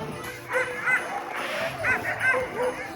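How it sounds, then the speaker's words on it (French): Husky sled dogs in Lapland bark and yip excitedly in repeated bursts, several voices overlapping at moderate distance against an outdoor background. "les chiens aboient énormément"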